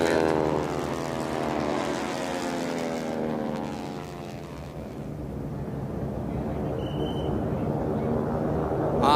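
Several T-6 propeller airplanes race past at a national championship air race, a loud, steady engine drone with a sweeping pitch shift as they pass nearby, continuing without pause.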